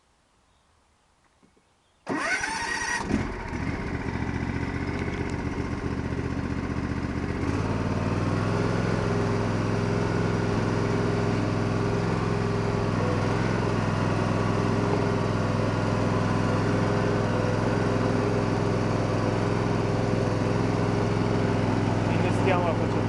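A Cub Cadet 1224 KHP lawn tractor starts up after a near-silent pause, revving briefly before settling into a loud, steady, close engine drone that continues unbroken to the end.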